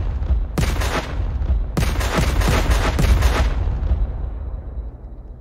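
Booming explosions in a 2D Minecraft Christmas mini-game, one blast then a quick series of three or four heavy bursts, loud and close, fading into a rumbling tail.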